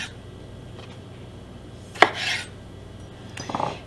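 A knife cuts cherry tomatoes on a board in a salad-making kitchen: a single sharp chop against the board, then brief rubbing and a faint scrape, close and isolated within quiet room tone.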